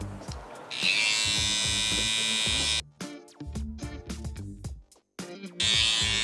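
A Panasonic electric hair clipper buzzes loudly in bursts, starting and stopping several times between quieter gaps with background sound during a skin fade haircut.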